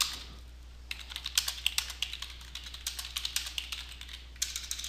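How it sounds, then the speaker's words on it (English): Rapid, irregular clacking of fingers typing on a computer keyboard, close and clear, continuing steadily for several seconds with no voices. "Maybe I should have someone else type this in for me."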